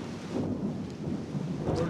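Rain and rolling thunder from the intro of a song: a steady wash of rainfall with low thunder rumbling beneath, fairly loud and continuous, with no voices.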